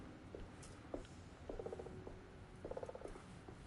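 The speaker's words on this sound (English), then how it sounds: "There's like an evil cat there, mate." A cat-like creature in the horror game Alone in the Dark gives a soft, rhythmic purring rattle in two short bursts over a low ambient background.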